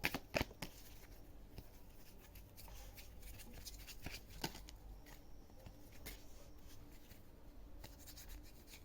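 Oracle, tarot and gypsy deck cards are shuffled close by, a soft continuous riffling and rubbing of cards with a few sharper snaps, quiet and alone.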